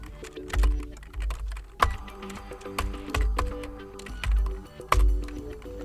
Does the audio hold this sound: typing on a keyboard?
yes